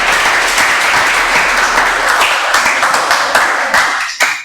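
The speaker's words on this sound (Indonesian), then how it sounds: "Tepuk tangan." A classroom of students applauds together, with dense, steady clapping close by that runs for a few seconds and then tapers off.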